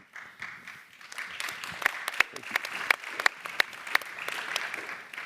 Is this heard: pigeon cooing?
no